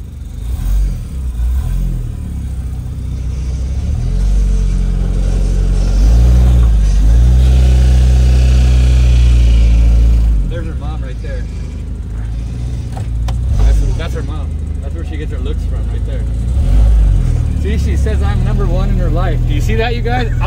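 A turbocharged mini truck with no brakes and no windshield revs while driving, its engine rising and falling through several loud surges, with people talking over the motor.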